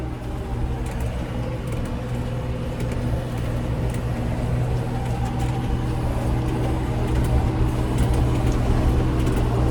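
A tractor rakes a grassy alfalfa field on rough headlands, its engine a steady close rumble with a low hum that swells slightly as it shifts down a gear, accompanied by faint rattling from the rake.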